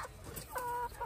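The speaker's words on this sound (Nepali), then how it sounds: "यो के कुखुरा रे यिनीहरू कोइलर अन्डै मात्रै पार्ने" Egg-laying hens cluck in a short, close burst of a few calls, with farmyard background noise and no talking.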